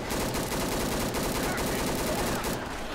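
Rapid gunfire rattles almost without pause through a tense moment in Left 4 Dead 2, dense and loud across the whole stretch, with players' voices faint beneath it.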